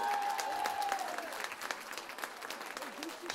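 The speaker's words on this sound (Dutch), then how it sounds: "Een daverend applaus voor" Audience clapping for Kayleigh at a Klein Gelmen carnival event, steady and moderately loud with scattered whoops, fading slightly toward the end.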